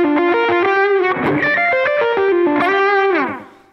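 Electric guitar through a bridge humbucker pickup with a tone from Helix modelling, playing a lightly overdriven, chorused melodic phrase of sustained and bent notes that rings alone, then fades out.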